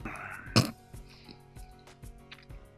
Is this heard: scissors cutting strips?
no